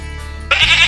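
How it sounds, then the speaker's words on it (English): A goat gives one short, loud bleat, sudden and close, heard alone. "goat,"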